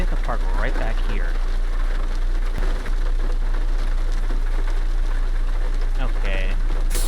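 Rain in American Truck Simulator pattering steadily over a low truck engine drone, with brief higher tonal sounds rising and falling at moments through the continuous wash.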